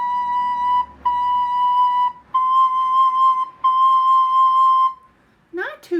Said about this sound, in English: So to switch from a B to a C, it might sound like this.